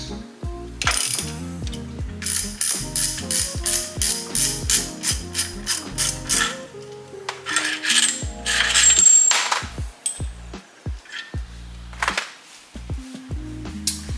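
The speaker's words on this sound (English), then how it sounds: "we're going to loosen up these Allen bolts here so we can slide the pads in" Allen bolts on AP Racing big brake kit calipers on a GR86 being loosened with a ratcheting tool, giving a rapid metallic clicking with repeated bursts of ratchet pawl ticks and short pauses, close and fairly loud, with no talking.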